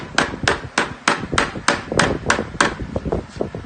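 A mallet taps repeatedly on metal lockouts on a manifold, about a dozen sharp, close knocks in a steady rhythm, the later ones growing quicker and softer.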